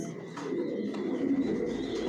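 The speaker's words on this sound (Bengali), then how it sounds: "টপ কোয়ালিটির কবুতর পালি" Racing pigeons coo steadily in a loft housing imported high-quality racer birds, a soft continuous murmur of several birds close by with no talking.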